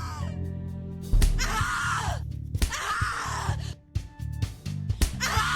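Harsh, drawn-out screams repeat in The Cat Lady video game, loud and close, broken by ragged gasps and groans between the bursts.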